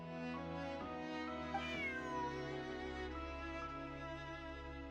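A cat meows in the video game Genshin Impact, a couple of drawn-out, fairly quiet mews over a soft steady background tone, with no voices.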